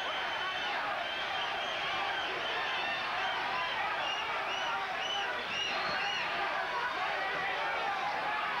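A boxing crowd at a WBC heavyweight title fight between Tim Witherspoon and Pinklon Thomas keeps up a steady, rhythmic chant, a dense wash of voices heard at a distance under a commentator's talk.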